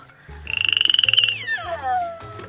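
A frog croaks in a rapid pulsing trill for about a second, close and clear, followed by a falling chirp-like call, with low background noise and no speech.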